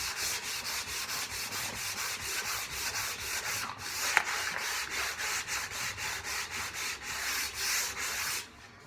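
Wooden legs being hand sanded with 150 grit sandpaper, a steady back-and-forth scratchy rubbing in regular strokes at close range that runs almost to the end, with one brief click near the middle.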